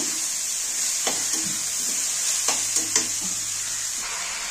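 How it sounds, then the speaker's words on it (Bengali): Cabbage sizzles steadily in a hot pan for a Bengali fish-head ghonto, with a few soft clinks and scrapes from stirring under a constant frying hiss. "এবার আমি বাঁধাকপিগুলো দিয়ে দেবো, একটু সামান্য নেড়ে দিচ্ছি।"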